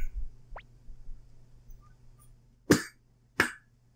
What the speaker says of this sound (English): I just had a coughing fit